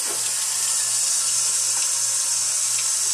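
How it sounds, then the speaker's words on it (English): Steady running water from a tap over an etched copper circuit board, a constant hissing splash with a faint low hum underneath, no voices. "we're going to run it under the water"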